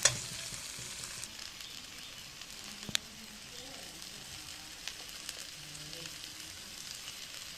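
Ghughni frying with salt in very little oil in a pan, a bright steady sizzle with occasional stirring clicks and scrapes, close and alone without talk.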